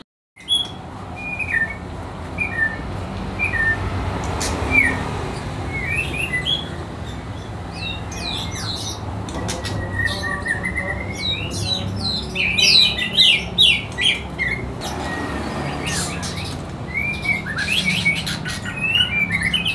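Songbirds chirp and squawk at a roadside bird kiosk, with repeated short calls and whistles scattered throughout, louder bursts clustering midway and near the end, over a steady background hum.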